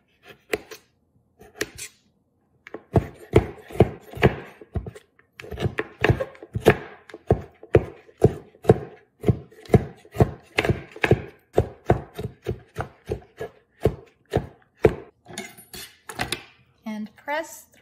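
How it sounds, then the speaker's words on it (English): Fresh ginger being chopped with a knife on a cutting board for a peanut sauce, giving a steady run of quick, sharp, close thunks, some rapid and clustered, with no talking over them. "cut up your fresh ginger"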